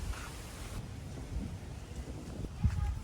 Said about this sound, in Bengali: বিশাল ঝড় হবে আজকে